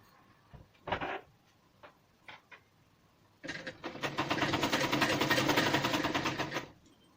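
Sewing machine stitching a rexine bag: a few short isolated needle bursts, then a steady loud run of rapid rhythmic stitching for about three seconds before it stops.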